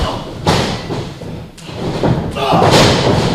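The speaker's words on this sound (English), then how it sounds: "Shotgun drop kick to the corner and to his face." Heavy thuds of a shotgun drop kick slamming into the corner during a professional wrestling match, a couple of loud impacts amid crowd noise and commentary.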